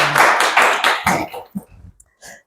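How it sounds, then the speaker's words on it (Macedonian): Audience applause greeting a special guest doctor at a beauty and health event, a burst of dense clapping for about a second that quickly thins into a few scattered claps and taps before fading. "Ве молам со еден голем аплауз да поздравиме доктор Виолета Кузмановска-Михајловска."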